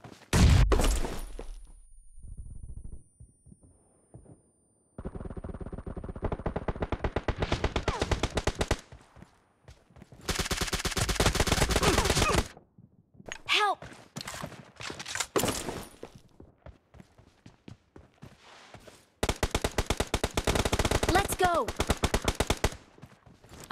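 Rapid automatic gunfire in the mobile battle game PUBG Mobile during Domination mode crackles in several dense bursts separated by short pauses, with a few sharper single cracks and faint game voice lines.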